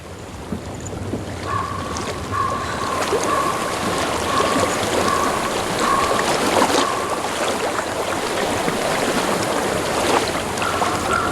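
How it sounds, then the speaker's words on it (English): Flowing water in the video game Hellblade: Senua's Sacrifice, a constant broadband rushing stream heard alone throughout, with a faint steady tone running over part of it. "I hear water."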